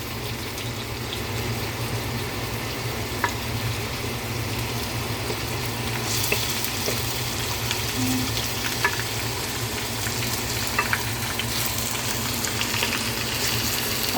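Boneless chicken thighs with the fat left on sizzle steadily in a hot greasy pan, a continuous close crackling hiss with small pops throughout, no talking.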